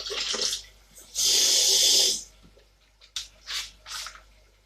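Water gushes from a tap into a cooking pot in a strong burst for about a second, then shorter splashes and trickles follow, close by, with no talking.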